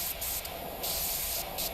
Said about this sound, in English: And we'll move the scaffolding and keep spraying.